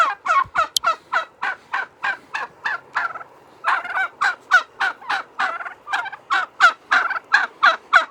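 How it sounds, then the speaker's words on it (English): Turkeys gobbling outdoors, a long run of rapid rhythmic gobbles in loud bursts, close and clear with no talk. "Turkeys."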